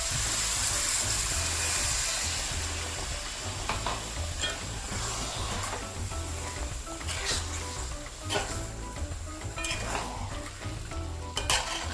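Chicken curry with coconut milk simmering in a pot while being stirred, giving a steady close bubbling sizzle with scraping spoon strokes and occasional clinks, and no voices.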